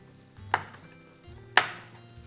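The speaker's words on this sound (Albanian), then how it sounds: "duke i prer kërpudhat në katërç" A knife quarters mushrooms on a cutting board in a home kitchen, landing two crisp, isolated chops about a second apart. The chops sound quiet and close, with no voices.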